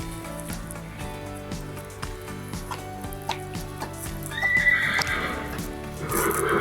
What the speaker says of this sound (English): This is a Tennessee Walking Show Horse